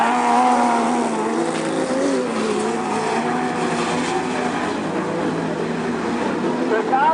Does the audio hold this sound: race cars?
yes